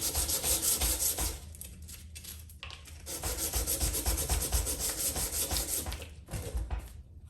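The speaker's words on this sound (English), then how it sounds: "let us start sanding the handle off" Hand sanding a wooden handle at a workbench, a steady scratchy rubbing in back-and-forth strokes with a few short pauses, close and clear with no talking.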